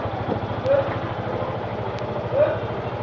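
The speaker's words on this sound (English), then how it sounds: "The bike is up and running." A Yamaha Majesty YP250 scooter with a charging-system fault idles at a steady, low, even throb, running alone and close by.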